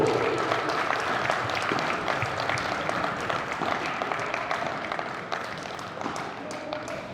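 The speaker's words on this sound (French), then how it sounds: "Faites un tonnerre d'applaudissements pour Clara Mansart et Marie Rondeau." Audience applauding at a women's padel final in Bordeaux, a steady wash of clapping from a crowd that fades gradually over several seconds.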